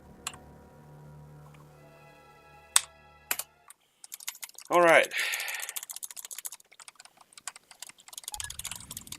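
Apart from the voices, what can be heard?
computer keyboard typing while playing Deltarune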